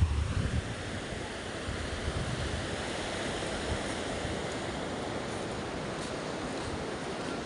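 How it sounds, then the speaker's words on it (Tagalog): Large ocean waves roll onto the shore in a steady, broad roar of surf, mixed with wind buffeting the microphone. The sound is continuous and fairly close, with no distinct breaks between waves and no voices. "inaabot ako dito ng alon ng malalaki"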